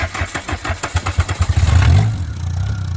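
A car engine, just repaired, cranks in a fast rhythmic series of starter pulses, then catches and settles into a steady, fairly loud idle close by.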